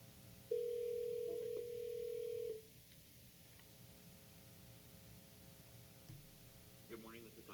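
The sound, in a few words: telephone dial tone on speakerphone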